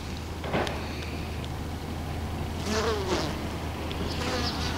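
Honeybees in a queen-rearing starter colony make a steady, dense hum close to the hive, with a few individual bees buzzing louder as they pass nearby, and no voices.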